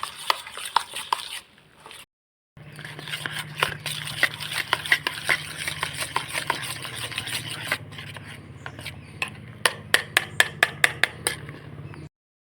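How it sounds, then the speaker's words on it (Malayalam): A spoon stirs thick ground urad dal batter for vada, making rapid sharp clacks and wet slaps against the bowl in an irregular rhythm, close up, with a short silent break early on and no talking. "ഇനി നമുക്ക് സ്പൂണൊക്കെ വെച്ച് നല്ലപോലെ ഇളക്കി മിക്സാക്കി എടുക്കാം."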